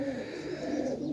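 A female pigeon with altered, red-marked feathers and a white tail coos in a low, steady, continuous murmur close by, with no one talking.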